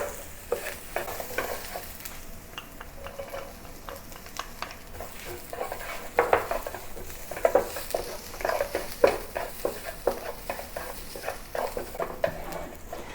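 Onions and garlic sautéing in a pan for an Asian-style mushroom dish, a continuous sizzle broken by frequent stirring scrapes and taps, close and moderately loud with no talking.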